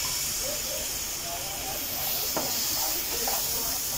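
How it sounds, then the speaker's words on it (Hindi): Ginger-garlic paste and green chillies sautéing in a pan for chicken Russian cutlets give a steady, close hiss that runs throughout, with faint clinks over it. "फिर हमें इसे भूनना है थोड़ी देर"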